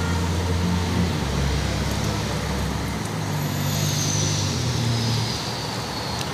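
2014 Buick Regal GS 2.0 turbo engine idling with fault codes P0010 and P0011, a steady low rumble and broadband drone heard close and continuous, with no talk.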